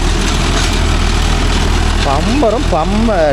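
A Mahindra Yuvo Tech Plus 585 4WD tractor runs a Bharat baler, giving a loud, steady, close engine drone with rattling machinery, while someone talks over it toward the end.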